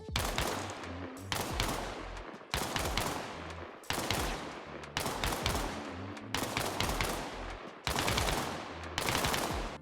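An M27 rifle fired from a bipod in the video game Arma Reforger: rapid sustained bursts of loud gunfire in about eight closely spaced strings, each with a reverberant tail, no talking.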